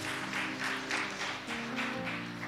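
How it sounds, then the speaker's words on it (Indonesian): A congregation claps during an online church worship service, a steady rhythmic clapping over a low sustained hum of music or organ tones. "Wah ada tepuk tangan."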